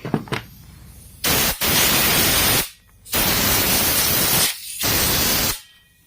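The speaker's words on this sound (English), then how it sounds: "you just take your blowgun, your canned air, whatever, and you start blowing those things out" Repeated long bursts of compressed air from a blowgun cleaning a space heater, loud hissing blasts separated by short pauses, four in a row.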